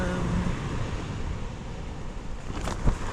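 Waves surge against Slapton beach in a broad, continuous wash of surf, with wind buffeting the microphone and a brief louder swell near the end; no one speaks.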